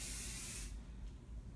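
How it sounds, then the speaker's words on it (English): A single quick mist spray of a facial product onto a face, a short close airy hiss that cuts off abruptly, followed by quiet. "I'm going to be spraying here, but also it's going to go all on the outside"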